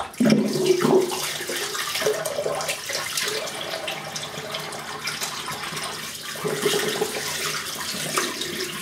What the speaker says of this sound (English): Let me just rinse that out a little more.